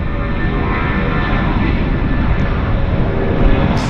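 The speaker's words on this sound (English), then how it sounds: "we've got United Airlines on the roll right now. So United looks like an A320." A United Airlines Airbus A319 or A320 roars on its takeoff roll at Vancouver airport, a loud, steady jet rumble with a faint rising whine, heard alone.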